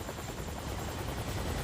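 A helicopter hovers over a swiftwater rescue drill in a rushing mountain stream, its dense, steady rotor roar and whine filling everything evenly and loudly throughout.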